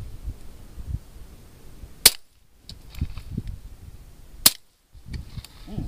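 Two sharp gunshots a couple of seconds apart fire through a suppressor packed with bacon, each a loud, clipped crack followed by a short hush, with low rumbling handling noise and background movement between.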